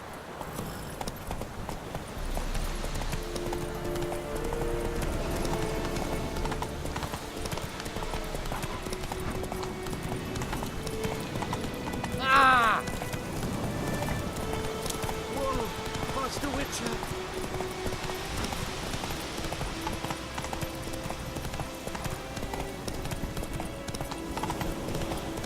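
Horse galloping in The Witcher 3, a steady clip-clop of hooves running through the whole stretch, with a rider's voice calling out over it and game music beneath.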